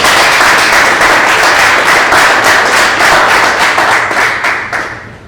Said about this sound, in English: So another round of applause for Jim Swap.